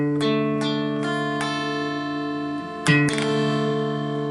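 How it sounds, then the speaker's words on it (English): Guitar strummed through a minor bar chord rooted on the fifth string, each strum ringing out several times in a clear rhythm with sustained tone, followed by a brief scrape and a final strong strum, no talking. "That's a minor chord, people."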